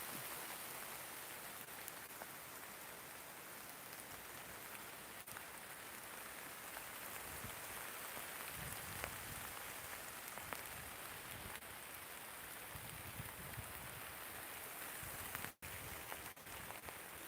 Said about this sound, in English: listen to that rain, can you hear it?